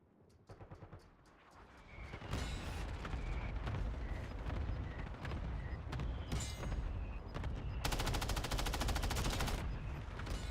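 Rapid automatic gunfire from a custom loadout in the video game Warzone, with loud, close, sustained bursts and a dense stretch of continuous firing near the end.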